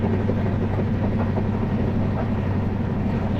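Express train 16526 running at high speed at night, with a loud, steady rumbling roar and rapid rail clatter heard from inside the carriage, unbroken throughout.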